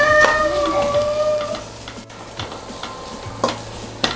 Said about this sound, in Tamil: கேபேஜ், கேப்சிகம் எல்லாம் போட்டு நல்லா மிக்ஸ் பண்ணிடுங்க. சிம்லேயே வச்சுட்டு மிக்ஸ் பண்ணி விட்டுருங்க.